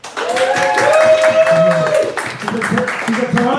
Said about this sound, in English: give her a cheer. Let's hear for the bartender lady.